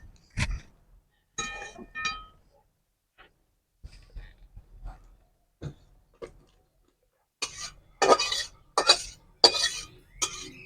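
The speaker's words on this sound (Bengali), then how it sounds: "এবার কচু শাকটাকে আমরা ঢেলে নেবো" Boiled taro leaves (kochu shak) are poured out of a pot, starting with scattered light clinks of cookware and ending in a cluster of louder, splashy bursts as the wet greens tip out, close up with no talk.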